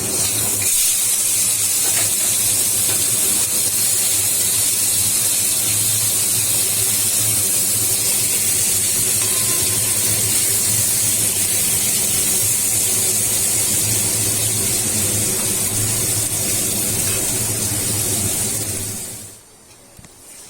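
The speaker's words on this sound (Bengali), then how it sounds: "মাছটা আমার ভাজা হয়ে গেছে" Prawns sizzle in hot mustard oil in a wok, a loud, steady, close hiss with crackling spatter that holds for nearly twenty seconds and then cuts off abruptly.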